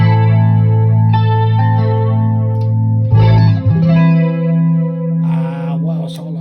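Electric guitar played through a Blackstar amp with a chorus effect, sustained chords and notes shimmering with wavering modulation and reverb, loud and close, without talk.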